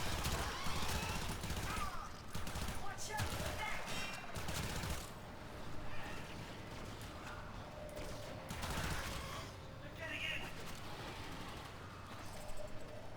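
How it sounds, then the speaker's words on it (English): Gunfire fills a Warframe battle as dense, continuous bursts of automatic shots mixed with other effects, heard at steady volume throughout the stretch. "Look at that guy just shooting the ground."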